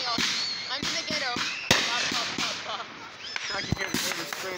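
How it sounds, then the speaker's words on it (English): Fireworks and firecrackers going off in a city neighborhood, sharp cracks and pops scattered irregularly through the clip, some loud and close, over steady background noise with occasional voices and whistling tones. "The fireworks get over me, Austin."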